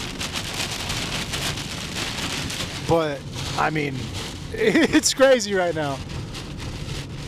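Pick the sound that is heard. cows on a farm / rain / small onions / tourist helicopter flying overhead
rain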